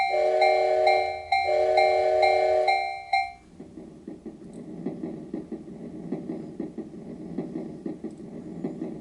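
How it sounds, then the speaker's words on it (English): A train sound effect from a Yamaha PSR E273 keyboard: crossing-bell dings play first, then break off into a rhythmic, chugging rumble of wheels on rails that carries on steadily. "And then a train."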